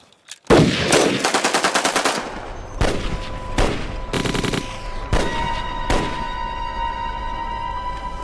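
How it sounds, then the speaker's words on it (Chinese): Gunfire in a wartime spy TV drama: a loud rapid machine-gun burst, then several separate bursts and single shots with ringing tails, alone without talk. "开枪，为陆涯他们送行。"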